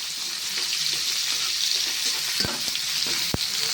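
Onion and garlic fry in a pan with a loud, continuous hiss and sizzle, a couple of sharp utensil knocks breaking through toward the end.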